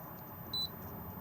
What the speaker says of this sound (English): If you want button beeps on or off